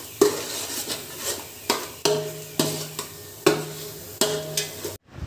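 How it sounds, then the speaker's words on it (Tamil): Biryani ingredients being stirred in a pot, with a spoon scraping and knocking the metal in about seven regular strokes, each a bright clatter over a faint background hum, with no talking. "நல்லா கலந்து விட்டுருங்க"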